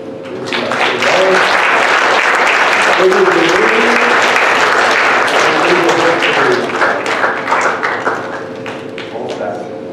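An audience at a school storytelling event gives a loud, sustained round of applause that swells and then thins toward the end, with voices talking underneath and a few sharp taps.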